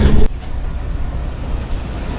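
A 130 Down Thal Express train pulls out of Jhamat railway station, a loud close knock at the start, then a steady low rumble of moving carriages with faint rail clatter, no talk.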